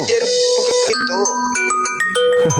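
A phone rings with an incoming call, a bright electronic melody of tonal beeps and chimes, loud and close, with a voice talking over it.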